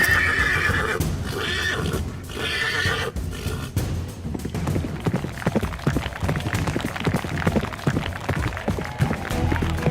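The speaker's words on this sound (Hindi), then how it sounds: "घोड़ा कैसा दौड़ा जा रहा है" A horse neighs loudly and then gallops with rapid clip-clop hoofbeats, set against a dense, busy background.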